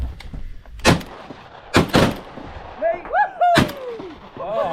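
Shotgun fire while duck hunting: four sharp, loud blasts, two of them close together, with excited voices shouting between and after the shots.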